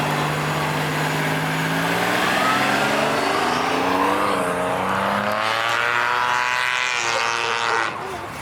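An old police car's engine revs hard at a car show, loud and close, its pitch rising and falling in smooth sweeps before cutting off near the end, with faint voices in the background.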